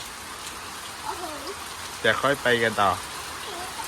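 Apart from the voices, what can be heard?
rain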